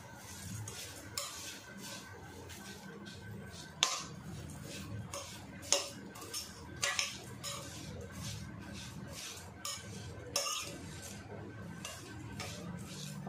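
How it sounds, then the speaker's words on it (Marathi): A spoon stirs aloo bhujia chaat in a bowl, scraping and clinking against the sides in uneven bursts with a few sharper knocks, close and unaccompanied by speech. "आता ह्याच्यामध्ये ही आलू भुजिया टाकूया आपण। थोडं मिक्स करूया।"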